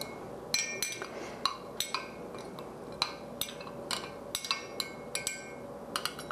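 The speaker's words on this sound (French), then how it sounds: "on mélange le sachet de levure avec l'eau et avec la cuillère à thé de sucre" A teaspoon stirs yeast, water and sugar in a glass, giving a quiet run of irregular metallic clinks and taps against the sides, some quick pairs and some spaced apart, heard close up with no voices.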